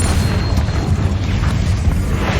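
Repeated Confringo fire spell blasts in the video game Hogwarts Legacy during a fight with spiders, heard as a continuous, loud, low booming rumble of explosions.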